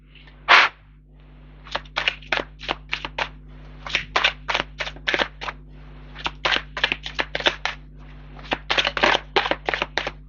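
Tarot cards shuffled and cut by hand, a run of crisp riffling flutters and snaps in quick irregular bursts, close and clear with no talking over them.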